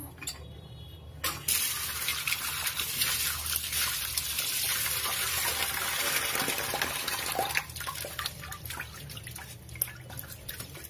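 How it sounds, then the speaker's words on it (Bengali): A tap runs steadily while fish is washed under it in a home kitchen, a continuous soft splashing stream with a few dripping accents, close and moderately quiet, with no voices. "মাছটাকে ধুয়ে নেব, মাছ ধুয়ে নেব"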